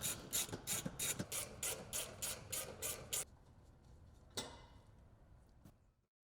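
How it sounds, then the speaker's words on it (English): Screws being backed out of the rear seat floor of a 2024 Polaris Xpedition XP/ADV with a ratcheting tool, a fast run of evenly spaced loud clicks for three seconds, then quieter handling and a single clack before silence. "remove the 4 screws from the rear seat floor"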